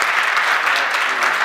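Audience applauding at a solemn certificate-presentation ceremony in Thiès, a dense, steady wash of clapping from a sizable crowd throughout.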